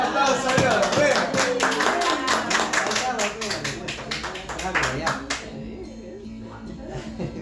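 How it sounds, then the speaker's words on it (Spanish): A church congregation claps loudly and steadily with voices calling out, then the applause dies away, leaving a low hum. "¡Un aplauso a Dios!"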